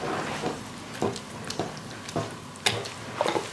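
Pancake batter being mixed by hand in a bowl at home, with soft irregular scraping and tapping strokes roughly every half second, faint and close.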